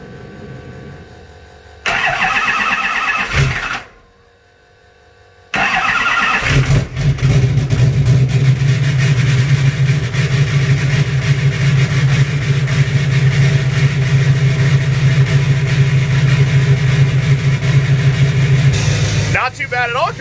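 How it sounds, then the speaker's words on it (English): A Duramax diesel truck with weak batteries and no glow plugs connected, cranked in 25–28 degree cold, catches and settles into a steady, loud, low idle, with a voice talking over the start. "let's give it our best shot at a cold start up here"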